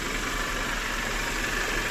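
A used car's engine idles steadily during an inspection, a constant close hum with no talk over it.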